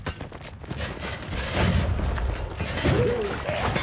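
Explosion in the video game Noita, a dull booming rumble that swells loudest midway, layered with game effects and a spoken voice throughout.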